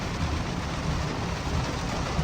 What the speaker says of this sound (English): he knew it was raining